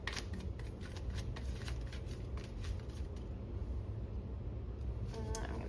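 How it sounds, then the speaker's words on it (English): Oracle cards being shuffled by hand at close range, a steady papery riffling and rubbing that runs continuously throughout with soft flicking accents. "I'm going to shuffle one more time."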